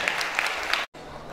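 An audience at a school Kannada Rajyotsava celebration claps for the schoolchildren. A dense round of applause runs for under a second, then cuts off abruptly before quieter room noise resumes.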